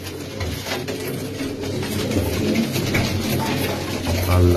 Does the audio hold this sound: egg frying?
no